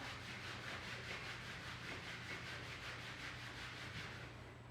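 Hands rubbing on either side of the knee during a seated chair yoga stretch, a steady close, soft swishing friction that continues without a break and with no voices.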